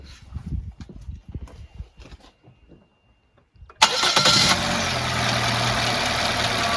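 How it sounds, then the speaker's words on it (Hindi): A car engine cranks and fires after a few quiet seconds with faint talking, then settles into a loud, steady idle that runs to the end. The start comes during a mass air flow sensor test. "सो पहले गाड़ी को स्टार्ट करेंगे हम।"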